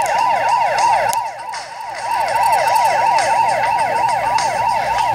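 Police car siren in the video game Turbo Dismount, a loud, close, continuous wailing siren sweeping rapidly up and down in a steady cycle, briefly dipping before returning at full strength.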